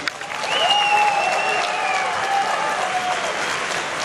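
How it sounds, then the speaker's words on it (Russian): A hall audience applauds the rector of the Moscow Power Engineering Institute at a start-of-academic-year address, a loud, sustained burst of clapping that fills the room and stays even throughout. "Николай Дмитриевич Рогалев, еще раз бурные овации!"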